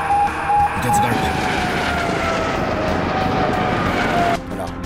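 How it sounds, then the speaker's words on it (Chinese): A military helicopter approaches overhead during an army air-defence alert. Its steady, loud engine and rotor roar fills the scene, with a faint whine that holds almost throughout. A brief voice comes in near the start, and the noise drops off at the end. "雷达发现我上空有 A 军直升机过来。"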